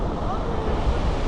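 Water from a small check dam rushes down in full force, with a steady, broad roar that fills the whole clip, plus a constant wash of wind on the microphone.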